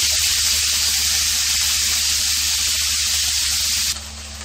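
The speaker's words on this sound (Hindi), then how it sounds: "ब्रेस्ट मैंने इनको अच्छी तरह फ्राई कर लेते हैं" Chicken breast pieces frying in a pan with garlic-ginger paste, giving a loud, steady sizzle throughout that drops slightly in level near the end.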